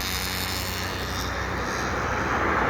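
A car engine labours hard in gear on a steep uphill climb, giving a loud, constant roar that holds at high revs without easing. There is no speech.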